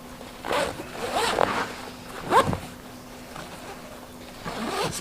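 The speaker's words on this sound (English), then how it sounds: "Zippers are all real nice, smooth." Zippers on a WindTook laptop backpack with a USB charging port are pulled open and closed in several quick, close, raspy runs of varying length, spaced across a few seconds with brief pauses.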